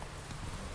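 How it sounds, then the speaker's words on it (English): Horse hooves clop steadily in the Witcher 3 video game, a continuous rhythmic trot heard up close against soft game ambience. "चल घोड़े चल"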